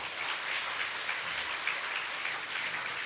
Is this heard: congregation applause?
yes